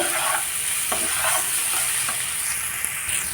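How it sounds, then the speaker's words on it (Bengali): Fried soybeans and pointed gourd sautéing in a pan give a steady, close sizzle and hiss, broken by several soft scraping strokes from stirring. "দিয়ে দিলাম ভেজে রাখা সয়াবিনগুলো যেহেতু সয়াবিন আছে তো সয়াবিনগুলো দিয়ে দিতে হবে আবার আরও কিছুক্ষণ দশ থেকে পনেরো মিনিট মতো আমি কষিয়ে নেব"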